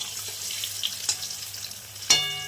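An egg fries in a kadai with salt and turmeric, a soft steady sizzle close by, broken by a few small clinks and a sharper scrape near the end, no talking.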